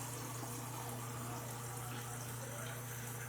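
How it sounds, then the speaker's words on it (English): Water being poured into a mason jar, a steady gushing fill with a constant low hum beneath it, quiet and continuous throughout. "I'm going to go ahead and add in 2 cups of water as well. I'm just getting it in the jar."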